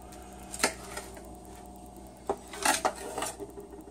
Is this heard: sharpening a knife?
yes